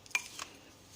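A homemade coffee scrub stirred in a container, a couple of quick clinks and scrapes of a utensil against the side, close and faint, with no voices.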